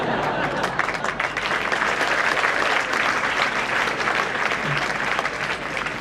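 An audience claps with enthusiasm at a lecture hall talk: a dense, steady burst of applause from many hands, loud and close, sustained for several seconds with no break.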